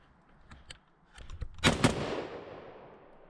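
Two sharp, loud gunshots fired in quick succession at a target five yards away during outdoor shooting practice, following a few faint clicks and ending in a brief fading echo.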